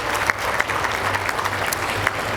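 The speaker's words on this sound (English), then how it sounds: "very big round of applause, please, for all of these remarkable faculty members at NOSM University" Audience applause at a NOSM University achievement celebration honouring faculty members, a steady, dense wash of many hands clapping, held at an even level with a few sharper claps standing out throughout.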